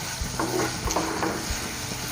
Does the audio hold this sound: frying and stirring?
yes